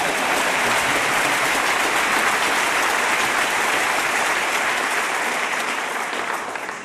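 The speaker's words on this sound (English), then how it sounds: "You can clap." Loud, sustained applause from a large audience at a high school graduation commencement ceremony, dense and steady throughout before tapering slightly at the end.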